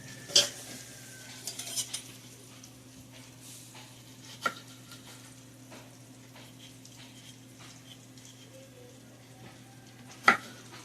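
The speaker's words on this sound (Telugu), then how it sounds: "మొత్తం కలిపుకుందామండి" Ivy gourd curry being stirred after chili powder and salt go in: a few soft spoon scrapes and clinks against the pan, sparse and close, over a low steady hum.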